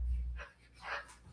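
A pet dog named Toby gives two short, close barks or yips during play with a toy, with quiet pauses between them.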